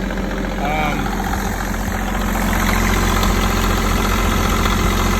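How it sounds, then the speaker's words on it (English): A Mahindra eMax compact tractor engine runs at a steady 1900 RPM, loud and close with a constant throbbing hum and no change in pitch. "that's where I run my tractor at when I'm first starting it of a morning, around 1900 RPM"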